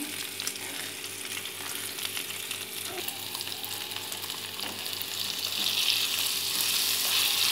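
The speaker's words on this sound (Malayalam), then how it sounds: "എണ്ണയിലിട്ട് ഇനി ഒന്ന് തിരിച്ചിടണം" Prawn ada frying in oil and being turned over, a dense, even sizzle that swells slightly louder toward the end, with a soft knock as the piece is flipped.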